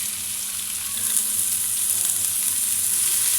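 Chopped onion frying in a few spoonfuls of hot oil for chicken patties, a loud, steady hiss of sizzling that swells slightly after the first second and holds without pause.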